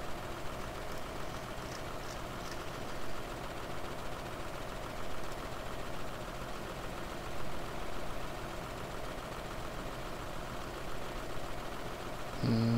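A farm vehicle in Farming Simulator idles, its engine giving a steady, low, continuous rumble at moderate level with no talk over it.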